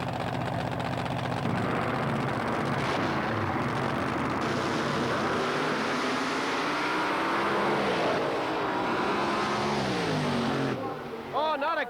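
Roaring 1987 drag racing car engine at a strip, continuous and loud with pitch sweeps as it passes, under a commentator's voice.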